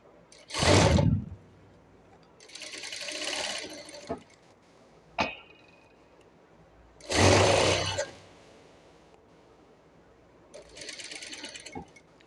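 A sewing machine topstitches a wide elastic waistband in short bursts of motor whir. Brief pauses and sharp clicks fall between the bursts, and there is no talking.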